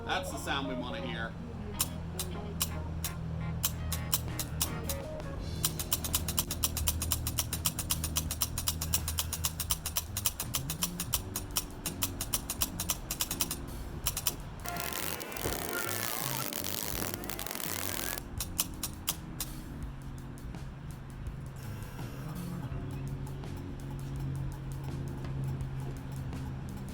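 A SAAB 9-3 turn signal flasher ticks at a steady normal rate, faint clicks running through a garage background, with a voice speaking over part of it.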